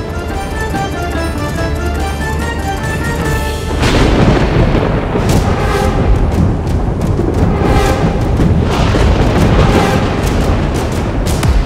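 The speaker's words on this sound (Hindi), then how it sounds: "ये भीषण आंधी, ये मूसलाधार वर्षा" A violent storm with thunder and pouring rain, heard as a dense, loud, steady roar of rain and wind with deep rumbling underneath that swells and stays heavy, with no voices.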